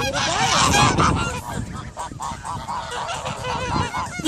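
A flock of geese honks loudly and continuously at close range, many overlapping harsh calls with no pauses.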